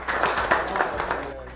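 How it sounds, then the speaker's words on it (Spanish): A studio audience on an afternoon television show gives a short burst of applause for a guest, with brisk clapping under a speaking voice that fades out by the end. "Dos aplausos para vos"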